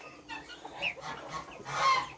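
Free-range chicks and young chickens cluck and peep softly around a pen, a thin layer of chirps and clucks held under a steady background hiss.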